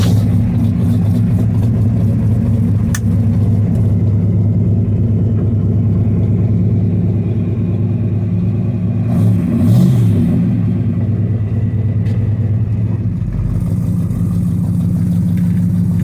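Steady low rumble of a pickup-type truck engine as it drives down a road on an errand run, a continuous drone with a slight rise around the middle, no talk.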